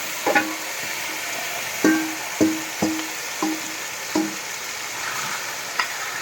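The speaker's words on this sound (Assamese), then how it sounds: "তেল গৰমতে তেজপাত দি লৈছোঁ আগতে। মাংস দিলোঁ।" Meat sizzles in hot oil with bay leaves as it is stirred in a pan, steady frying hiss with a run of close, regular scrapes and knocks from the stirring, no voices.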